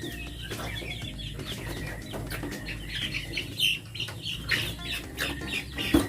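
Free-range chickens clucking and rustling in their coop at night, soft scattered clucks and occasional wing flaps over a low steady hum, fairly close.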